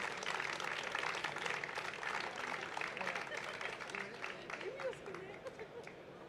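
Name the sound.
audience applauding award winner at ceremony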